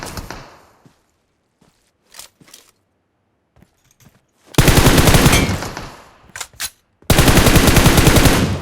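Automatic rifle fire in the mobile battle royale game PUBG Mobile, loud sustained bursts of rapid shots with scattered single shots and brief quiet gaps between them, close and dominant.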